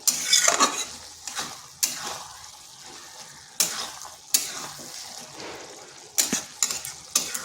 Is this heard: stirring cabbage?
yes